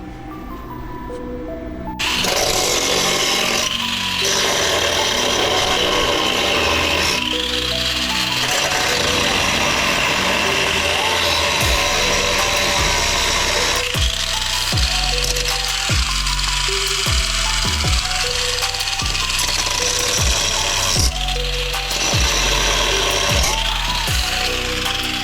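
Angle grinder cutting and grinding steel on a Jeep Cherokee XJ shackle relocation bracket, a loud continuous harsh whine that surges and dips with repeated pressure changes, close up, running almost the whole time after a brief quiet start.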